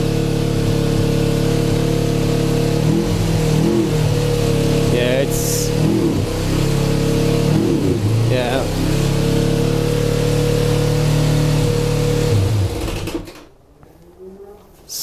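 A motorcycle engine runs steadily at a fast, high idle of about 4,000 RPM with the choke stuck on, loud and close, with someone talking over it before it cuts off abruptly.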